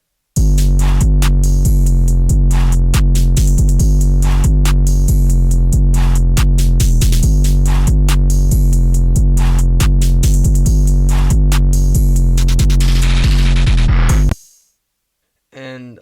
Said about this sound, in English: And now play all the drums together.